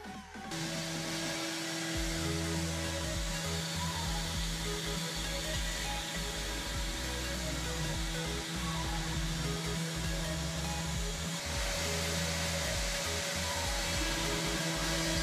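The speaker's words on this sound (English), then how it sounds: "here you can see the machine cutting the wood" A homemade CNC router cuts wood with a 6mm two-flute end mill, a loud, steady whine with humming tones that runs unbroken throughout and starts abruptly.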